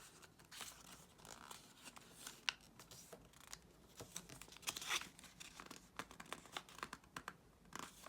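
Paper being folded by hand for a handmade scrapbook-style book, soft close crinkles, creases and taps in quick irregular bursts, quiet and with no one speaking.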